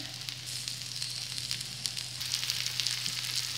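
Green chickpea bhabhra frying in a pan as a Holi snack, a dense continuous close sizzle with light crackling, steady and alone without talk.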